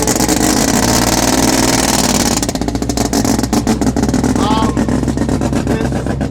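A loud street-driven race car engine with a C4 transmission drones steadily, then its revs flutter and rise in rapid pulses, close and rough, filling the whole clip.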